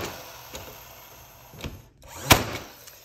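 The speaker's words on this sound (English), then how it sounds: "I am gonna be using the brad nailer for this part so I don't have to worry about starting nails in" A brad nailer fires brads into a wooden sled, giving a few soft thumps and then one sharp, loud pop near the end, set against a quiet workshop background.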